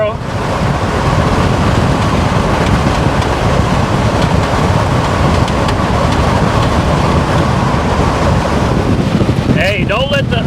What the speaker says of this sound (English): She's doing 60 miles an hour, and she's just floating down the road, man, like it's nothing.